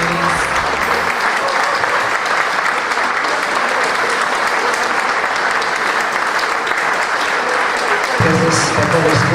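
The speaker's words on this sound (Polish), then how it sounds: "Wielkie brawa, Unia Leszna, Mistrzem Polski" Sustained applause from a crowd honoring the Unia Leszno team as Polish champions at an end-of-season sponsor gathering, dense and steady throughout, with a voice briefly heard at the start and end.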